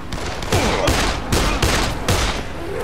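Bursts of gunfire in the zombie game Dead Island, several loud broadband volleys in quick succession with brief gaps between them, close and dominant over a steady game background.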